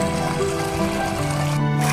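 Water from a farm-field motor pump outlet pours into a sample bottle for testing, a close, steady gurgling fill whose tone shifts as the bottle fills.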